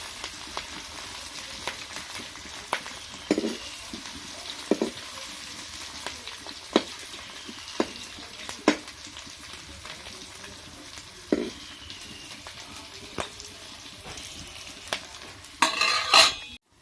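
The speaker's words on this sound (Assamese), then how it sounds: "এটা ধুনীয়াকৈ ভাজি ল'ব লাগিব মই এইখিনিতে ভাজি ল'ম ধুনীয়াকৈ" Food frying in a pan with steady sizzling, broken by repeated clinks and scrapes of a utensil stirring it, close and continuous with no talk.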